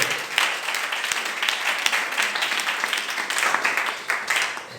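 A church congregation applauds during a worship service, steady close clapping from many people that lasts the whole stretch with slight swells and no break.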